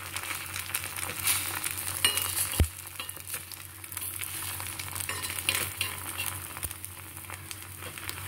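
An egg omelette frying gently in a pan over low heat, with a soft continuous crackle and sizzle, a faint tap partway through.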